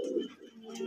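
Fancy pigeons at a pigeon farm give a low, rolling coo at close range, one soft burst that swells and fades within a second, with faint chirps behind it.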